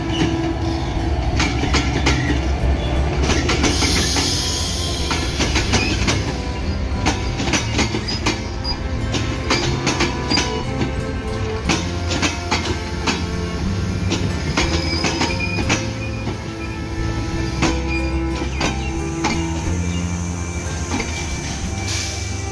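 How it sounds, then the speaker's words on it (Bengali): The Dhaka-bound 758 Down Drutojan Express intercity train rolls into Akkelpur railway station on loop line 1, with a steady, loud rumble of wagons, rhythmic wheel clatter and occasional squeals from the rails, and no talking. "ঢাকাগামী 758 down Drutojan express Akkelpur railway স্টেশনের 1 নম্বর লুপ লাইন দিয়ে এই মুহূর্তে প্রবেশ করছে দ্রুতযান এক্সপ্রেস।"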